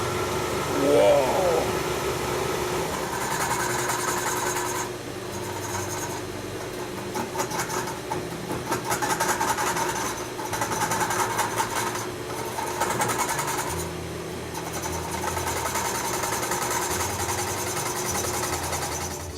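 A woodturning lathe spins up with a steady mechanical whir and hum after being switched on, close by, with brief louder bursts and people talking over it.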